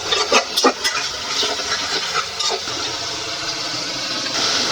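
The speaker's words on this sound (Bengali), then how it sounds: "আমি আরও কিছুটা জল দিয়ে দিচ্ছি" Water is poured into a pan of egg curry with vegetables: a few splashy gulps at first, then a steady, close stream of pouring and bubbling liquid.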